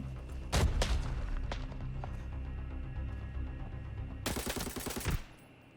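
Gunfire in the shooter game Arena Breakout: a few sharp single shots early on, then a rapid automatic burst near the end, loud and close over a low ambient hum.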